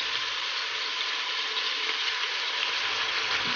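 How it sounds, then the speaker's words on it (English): Chopped onion frying in a pan for pork sinigang, a steady broadband sizzle with close, even crackle holding throughout and no talk over it. "So now let's cook the onion"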